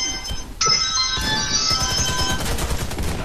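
A phone ringtone chimes in during a Warface match, a bright sustained electronic melody that begins abruptly and rings over rapid gunfire bursts from the game.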